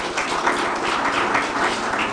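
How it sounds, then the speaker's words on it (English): Sustained audience applause at a Nairobi-style official event on local vaccine manufacturing, a steady dense wash of many hands clapping, moderately loud and continuous throughout with no talk. "So please give them a round of applause."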